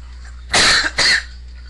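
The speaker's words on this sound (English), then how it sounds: "Sorry for the coughing, I have a bit of a coughing problem at this time." Two quick, close coughs from a person, a sharp double burst in an otherwise quiet moment with a faint steady hum behind it.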